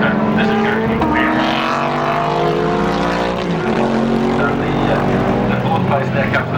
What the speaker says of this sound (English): The fourth place there comes the Mustang.